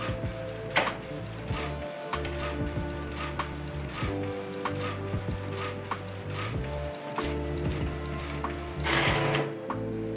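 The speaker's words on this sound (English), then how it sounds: "Printing from the flat tray is always in the highest quality and a little bit slower." A Canon MAXIFY GX3000/GX4000 inkjet printer feeds from its flat tray on a high-quality, slower print, giving steady mechanical whirring with repeated clicks and ratcheting knocks at close range and no talking.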